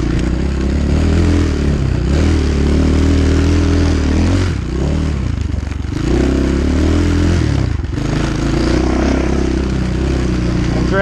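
A dirt bike engine drones loudly and continuously on a trail while dragging a tree behind it, with scraping and clattering mixed in.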